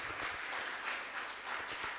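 A cultural society event audience claps in welcome, a steady, soft wash of applause from a crowd, heard alone and at an even level.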